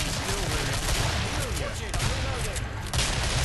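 Dense, continuous gunfire from the video game Killing Floor fills the whole stretch, a loud steady barrage of overlapping shots with no clear pauses.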